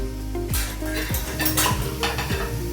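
Nigella seeds sizzling in a little hot oil, a close, steady fry with a few light clinks and scrapes of a utensil against the pan.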